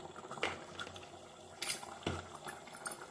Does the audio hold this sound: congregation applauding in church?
no